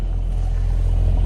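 A Mercedes-AMG 4MATIC turbo car engine idles with a steady, loud low rumble, continuous and close, with no voices over it.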